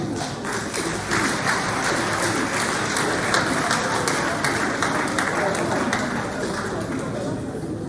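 Audience applause fills an award ceremony at a lycée, a steady, sustained wash of many hands clapping with crowd chatter woven through it.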